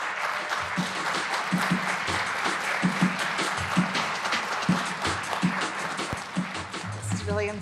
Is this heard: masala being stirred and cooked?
no